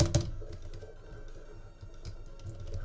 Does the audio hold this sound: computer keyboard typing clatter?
yes